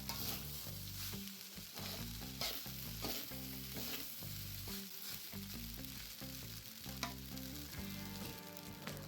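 Vegetable pulao being stirred in a frying pan, with steady sizzling and frying under repeated scraping and clinking of a utensil against the pan.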